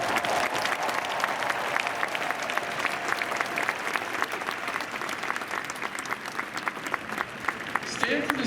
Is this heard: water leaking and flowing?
no